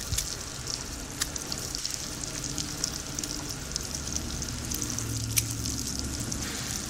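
A full cup of oil goes into Lahori mutton karahi, producing a steady dense sizzle and crackle from the hot pan, close and continuous with scattered sharper pops.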